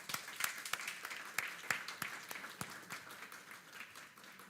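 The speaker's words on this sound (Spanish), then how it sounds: "Un fuerte aplauso, por favor." A crowd applauds at a national commercial arbitration competition, with rapid, scattered claps that hold steady for several seconds, then gradually thin out.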